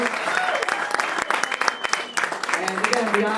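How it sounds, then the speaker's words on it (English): Guests at an evening spring fundraiser with a city skyline view applaud, a dense burst of clapping with voices and a few cheers mixed in, lively and fairly loud throughout. "A round of applause."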